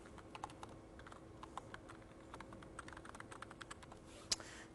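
Fingers type a command into a terminal on a computer keyboard, a quiet, steady patter of individual key clicks with irregular spacing and one sharper keystroke near the end, heard alone with no voices.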